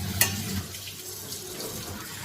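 Tap water running steadily to wash gourd leaves, a close, continuous splashing flow with a brief sharp knock near the start.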